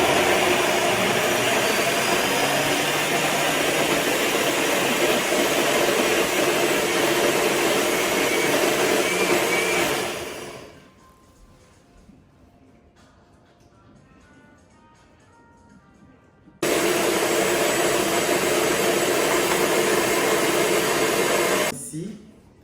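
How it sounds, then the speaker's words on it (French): A blender mixes yeast dough batter in two loud, close bursts of steady whirring, the first about ten seconds long, then a short quiet pause before the motor runs again. "Et là, on va mixer le tout."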